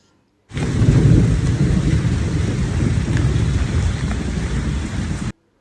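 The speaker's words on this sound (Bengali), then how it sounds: "শুনতে পেলে কত জোরে মেঘ ডাকছিল, অনেকক্ষণ বৃষ্টি হচ্ছিল" Heavy monsoon thunderstorm with loud rumbling thunder over dense, steady downpour, sustained and close throughout without any talk.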